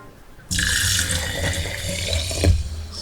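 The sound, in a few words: water poured into a jar with a cup measure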